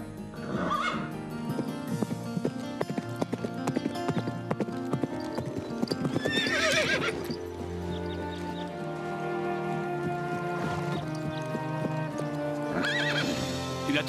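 Horses at a riding stable whinny and clip-clop. Hoofbeats repeat steadily while several loud neighs rise over a dense, busy soundtrack.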